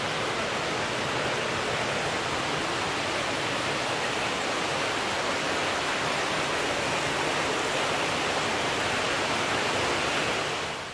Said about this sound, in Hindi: जो पानी का जो शोर आ रहा है।